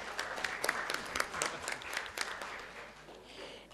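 Scattered, somewhat sparse applause from attendees at a Grajewo city council session, greeting the newly elected youth council chairman; individual claps stand out, heard from a distance and fairly faint, tapering off toward the end.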